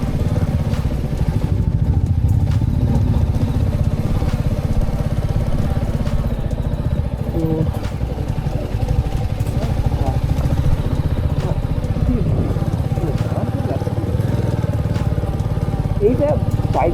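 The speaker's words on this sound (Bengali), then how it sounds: "এখানে বাইক চালাচ্ছ" A motorcycle engine drones steadily while riding a mountain road in Sikkim on the way to Zuluk, a continuous mid-pitched hum with people talking over it throughout.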